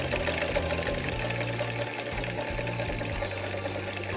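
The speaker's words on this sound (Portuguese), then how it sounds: "você vem e passa a costura até o final" A sewing machine runs steadily, stitching bias binding along a fabric edge to the end of the seam, with a continuous close mechanical hum and slight pitch changes as speed varies.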